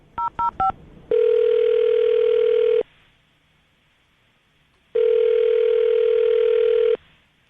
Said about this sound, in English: Dial the phone right now.